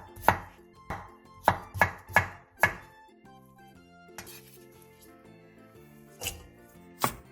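A kitchen knife slicing a halved cucumber diagonally into 0.5 cm pieces on a cutting board, six quick crisp chops in a row, then a few sparser knocks over soft background music.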